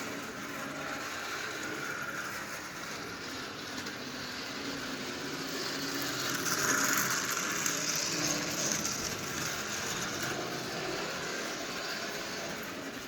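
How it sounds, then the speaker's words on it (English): A Marx propeller-powered toy rail car with a two-blade propeller runs on its rail, giving a steady whirring, buzzing motor-and-prop drone that swells slightly as it passes nearer, with no talking. "It's zooming around the rail, no doubt."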